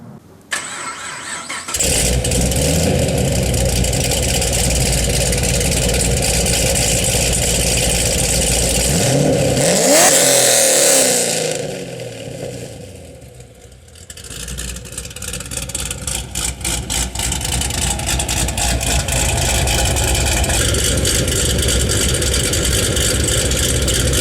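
Modified 500 WHP 2014 Chevrolet Camaro 2SS V8 cranks and fires into a loud, rumbling idle up close, with a surge and brief dip midway before settling back into a steady, throaty run.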